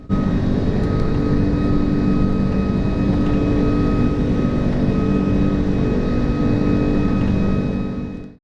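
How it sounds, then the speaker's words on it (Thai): A Thai Airways Airbus A340-600 with four engines takes off from Suvarnabhumi. A loud, steady engine roar with a constant hum fills the cabin, then cuts off abruptly at the end. "และแล้วเครื่องบินของเราก็บินออกจากสนามบินสุวรรณภูมิครับมุ่งหน้าไปยังซิดนีย์"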